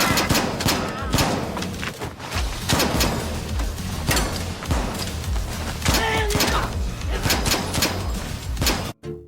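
Intense gunfire in a gangster movie shootout, with dense bursts and sharp shots continuing throughout, loud and close, mixed with thuds and slams and some voices.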